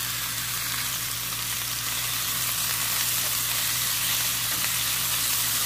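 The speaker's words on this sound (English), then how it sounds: "Prituhin muna natin yung meat guys." Pork meat fries in a pan for pancit bihon, a steady, loud, dense sizzle that holds unbroken throughout with no talking.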